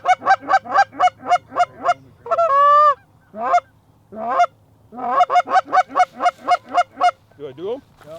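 Geese honk in flight during a duck and goose hunting opener in Canada, a loud, close run of rhythmic, evenly spaced honks with a few longer, wavering calls in between.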